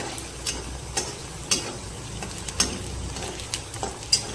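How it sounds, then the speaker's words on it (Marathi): Moong dal tipped into onions frying in a pan, sizzling steadily while a spoon scrapes and knocks against the pan in a regular stirring rhythm, loud and close. "थोडासा अजून थोडा लाल होण्या अगोदर आपण मुगाची डाळ सोडून देऊ"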